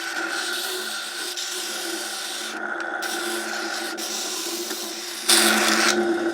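A wooden leg part for a 1977 Michael Gurian guitar is skimmed down by hand to fit a slot, giving a steady close rasping rub with a brief pause and a louder stroke near the end.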